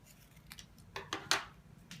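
Scissors snip through paper while shapes are cut for a cut-paper design, a few quick, close, crisp cuts that build to one louder closing snip, heard alone in a quiet room.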